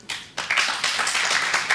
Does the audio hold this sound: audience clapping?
yes